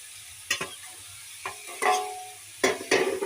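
Drumstick pieces (sajne data) frying in a pan, stirred in short scraping strokes over a low sizzle, with several distinct nearby clatters of the spoon against the pan.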